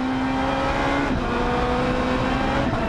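A Lotus race car accelerates hard through a chicane at the Zolder circuit, its engine climbing in a loud, close, rising roar with a sustained tonal whine across the whole short stretch.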